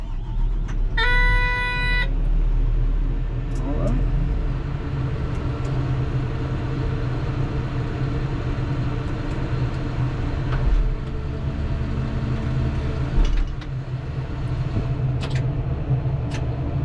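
A heavy vehicle engine on a farm cranks up, a brief harmonic warning tone sounding near the start, then settles into a loud, steady, close low rumble that runs throughout with small fluctuations and no voices.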